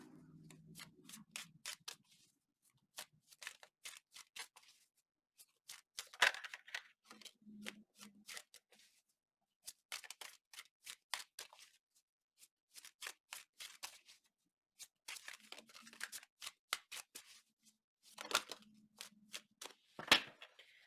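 Crisp, rapid riffling and soft slaps of tarot cards being shuffled in repeated bursts, close by, with brief quiet pauses between rounds.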